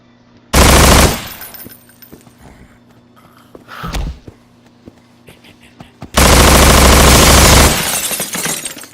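Rapid automatic gunfire from a weapon in the video game Estranged, two loud sustained bursts separated by a quieter gap with a single sharp crack and faint footsteps, close and dominant.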